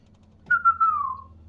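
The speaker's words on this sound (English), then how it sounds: "That was a wild whistle." A Class 377 train's whistle in the simulator game Train Sim World 6 on a London commuter route, one clear rising-then-sliding tone lasting under a second over a low rumble of the train.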